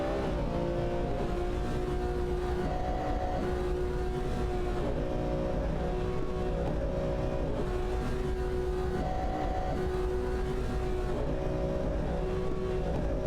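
Video game race cars, including a McLaren F1 GT and an Aston Martin, drone with a loud, continuous engine whine whose pitch shifts up and down as they speed along, with no talk.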